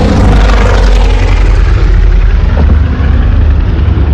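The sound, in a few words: Luftwaffe propeller aircraft flying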